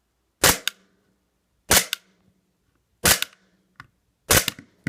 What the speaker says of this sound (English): just to give you a little feel for the blowback, there is green gas in this magazine. There are no BBs, so it's just dry firing.